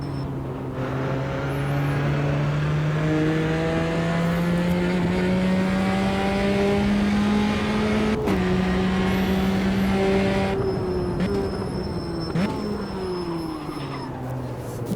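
A race car engine revs through a lap in a racing video game, rising and falling in pitch through the gear changes, with one abrupt shift, loud and continuous with no talking.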